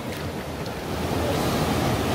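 Rain-swollen stream rushing through rocky Baegun Valley in Pocheon, with waterfalls upstream, a dense continuous roar of water heard close and loud without pause.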